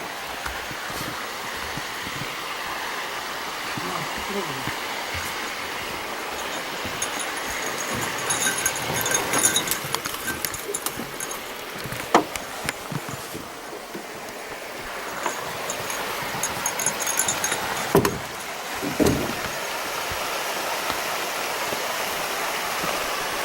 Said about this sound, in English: Really nice streams going through.